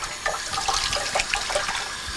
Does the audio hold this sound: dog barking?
no